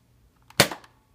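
A Nerf toy gun fires once, a short sharp pop followed by a brief rattling tail, loud and close in an otherwise quiet room.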